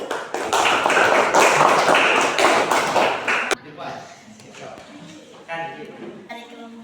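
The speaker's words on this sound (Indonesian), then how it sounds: "Tepuk tangan untuk kelompok 1." A classroom group claps for the first presenting group, a dense burst of many hands that lasts about three seconds, stops sharply, and then gives way to quieter scattered taps and voices.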